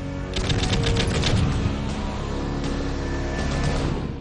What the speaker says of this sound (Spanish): Hagan disparos de advertencia.